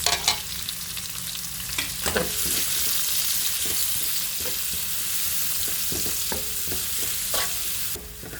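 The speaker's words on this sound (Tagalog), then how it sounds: "Dahil nag-brown na ang aking bawang, ilagay ko ng sibuyas." Onion and garlic sauté in a hot pan, a continuous close sizzle broken by frequent clatters and scrapes of a spatula stirring, with no voices.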